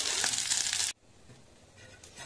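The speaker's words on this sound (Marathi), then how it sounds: "आता लाल चांगलं होईपर्यंत हे लापशीचा भरडा आपल्याला भाजून घ्यायचा आहे" Coarse broken wheat for lapshi being roasted in a kadhai gives a loud, hissing sizzle with stirring for about a second. It then cuts off sharply to a faint, scraping quiet.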